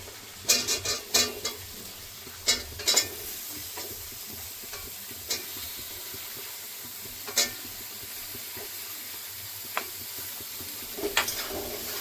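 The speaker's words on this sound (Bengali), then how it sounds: "মশলার সঙ্গে কিছুক্ষণ ভেজে নেব।" Ridge gourd frying with spices in a pan gives a soft continuous sizzle, broken by scattered sharp scrapes and clinks as the pieces are stirred, loudest near the start and again toward the end.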